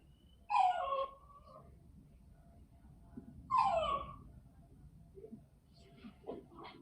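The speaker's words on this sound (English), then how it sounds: "My dog is here." A dog gives two separate high, whining whimpers a few seconds apart, with quieter yips after them, over low background noise in a room.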